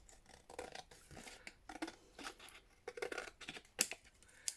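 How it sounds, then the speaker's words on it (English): Scissors snip and rasp through paper in short, irregular cuts, close by, with a couple of sharper clicks near the end. "Use the scissors."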